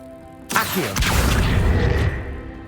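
An Accio summoning spell cast in Hogwarts Legacy, a sudden loud magical whoosh and boom that swells with a rushing burst, sustains for about a second and a half, then cuts off abruptly.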